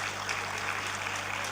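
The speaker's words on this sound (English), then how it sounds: "I would request you to clap to everybody because everybody is a winner" Audience clapping for everyone at a ceremony, a dense, steady patter of many hands that runs for a moment over a constant low hum.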